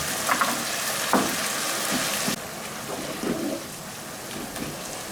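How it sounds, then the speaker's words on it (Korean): Bulgogi with green chili peppers and added water simmers in a pan for a ttukbaegi stew, giving a steady, close bubbling sizzle with small pops and stirring clinks throughout. No one speaks. "이제 이렇게 해서 자박자박 끓이도록 하겠습니다"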